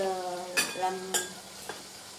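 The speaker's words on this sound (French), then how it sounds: "Voilà, le poisson est en train de faire cuire." Salmon frying in a pan makes a soft sizzle under a steady tonal hum, with three brief scraping stirs close by.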